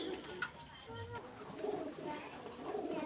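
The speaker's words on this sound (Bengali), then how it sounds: "এটা নর কবুতর।" A male pigeon coos softly, low and faint against a quiet background, with a few brief rustles and no clear talk.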